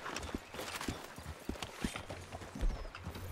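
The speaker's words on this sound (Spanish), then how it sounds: "¡Qué trote más cómodo tiene este caballo" A horse trots in the video game RedM, with quick, rhythmic hoof clops on a hard surface over a light background bed.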